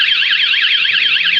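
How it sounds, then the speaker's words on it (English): A Van Guardian van alarm giving its first warning blast, a loud rapidly warbling electronic siren that cycles steadily throughout without pause, heard alone. "What you're hearing with Van Guardian is first 2-second alarm blast, letting anybody who touches it know that the vehicle's protected."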